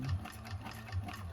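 A 1341 cylinder arm sewing machine stitches a bag seam, a steady close mechanical whirr with a rhythmic rattle running throughout the short stretch.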